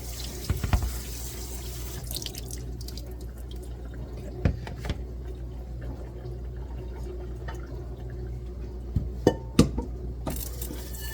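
Tap water runs steadily over drained beans in a sink for a rinse, a constant close splashing hiss with a few clinks and knocks of the pot or strainer, and no voices.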